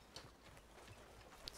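Faint, steady clip-clop of horse hooves walking in the western video game Red Dead Redemption 2, soft rhythmic thuds at a low, distant level with no talk.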